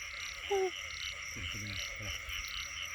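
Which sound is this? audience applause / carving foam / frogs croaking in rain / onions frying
frogs croaking in rain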